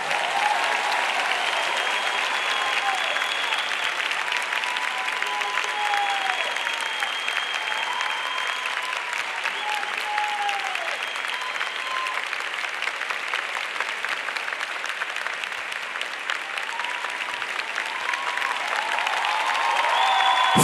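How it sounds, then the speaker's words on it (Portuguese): A live concert audience at a Brazilian gospel show applauds continuously for twenty seconds, a broad steady roar of clapping with faint cheers and whistles threaded through, while sustained music or voices drift beneath. "Aplauda esse Deus lindo e santo."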